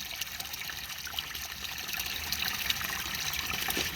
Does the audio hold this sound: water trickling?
yes